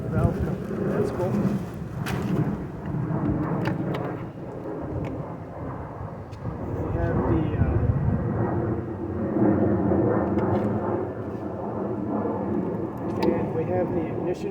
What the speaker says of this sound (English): We also have an airplane going overhead.